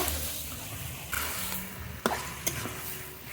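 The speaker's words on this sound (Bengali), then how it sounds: "এক কিলো মাংস আছে মশলার সঙ্গে খুব ভালো করে নেড়ে নেব" One kilo of mutton with spices is stirred in a hot pan, a continuous close sizzle with scraping strokes and a couple of sharp clanks from the spoon against the pan.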